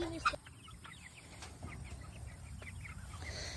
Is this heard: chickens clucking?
yes